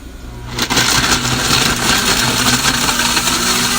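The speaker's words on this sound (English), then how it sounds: "You hear the ice crunching up." A blender kicks on after a brief pause and roars loudly and steadily, grinding ice and strawberries for a smoothie with a harsh, continuous whir up close.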